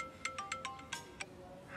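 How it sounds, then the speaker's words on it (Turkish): A mobile phone ringtone plays alone at close range: a quick run of bright electronic beeping notes in an uneven melodic pattern, with no talking. "Sonunda açtın yani telefonu Sanem."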